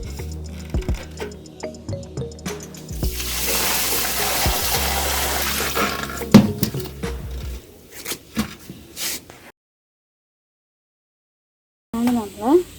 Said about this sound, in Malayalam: ഇനി ഇതിലത്തെ വെള്ളം ഒഴിവാക്കാണ്